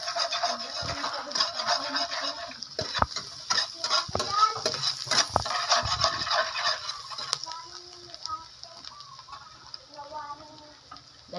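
Garlic sautéing in melted butter in a pan for seafood paella makes a busy, continuous sizzle with stirring scrapes and knocks throughout, growing thinner and quieter over the last few seconds.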